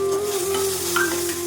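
Onion and tomato masala with coconut sizzles and fries in a pan for a squid curry, a close, steady crackle with a stirring scrape and no talking.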